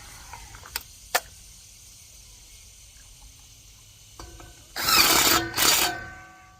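Power drill driving a screw into a pontoon boat's front bumper, two loud close whirring bursts near the end, preceded by a couple of sharp clicks and a quiet stretch.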